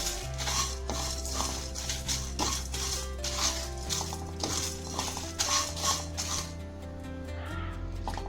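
Whole spices dry-roast in a hot wok for chicken ghee roast while a metal spatula scrapes and clinks against the pan in a steady, close rhythm, over a low hum, with no speech.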